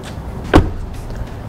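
A Subaru WRX car door, fitted with Kicker door speakers, shuts once with a single solid, low thump and no rattle, close by against steady background noise.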